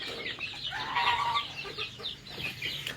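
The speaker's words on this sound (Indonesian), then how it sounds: "Hari ini saya memiliki kurang lebih 100 ekor ayam" Chickens from a flock of about a hundred birds cluck on a farm, with a busy, overlapping run of clucks at moderate loudness close by and no talk.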